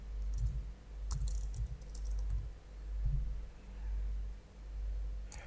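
Someone types on a computer keyboard while using structural design software, giving faint, sparse keystrokes and clicks in small clusters over a steady low hum.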